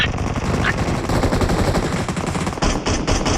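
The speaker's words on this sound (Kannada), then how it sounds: "ಪಟಾಕಿ" Firecrackers crackle in a dense, rapid, continuous burst like a string of bangers, loud and close, the popping carrying on without a break.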